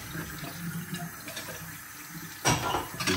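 Tap water runs into a sink while dishes are being washed and rinsed, a steady close splashing that swells louder near the end.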